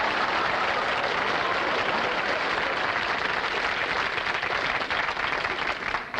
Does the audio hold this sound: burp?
no